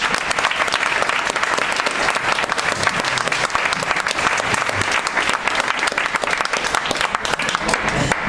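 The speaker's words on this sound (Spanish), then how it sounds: "un aplauso para Nacho." Sustained audience applause at a talk in Madrid, a dense, steady clatter of many hands clapping that fills the whole stretch at an even level with no voices on top.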